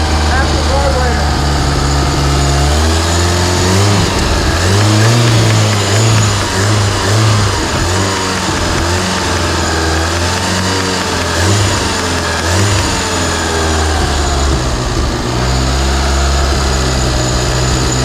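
A 1983 Honda Civic's carbureted 1.5-liter EM1 engine runs steadily close by, with a loud mid-pitched hum that rises in revs now and then, while people talk over it.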